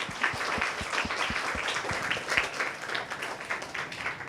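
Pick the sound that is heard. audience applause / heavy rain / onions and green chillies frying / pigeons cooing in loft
audience applause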